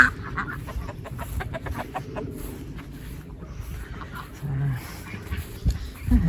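Light Sussex chickens cluck in a backyard run, soft repeated clucks scattered through the clip over a dog bark and outdoor background, with a voice talking.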